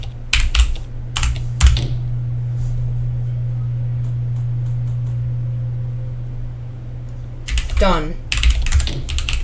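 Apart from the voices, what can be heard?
typing commands on a computer keyboard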